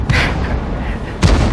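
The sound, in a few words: M40/M43 artillery gun firing in World of Tanks video game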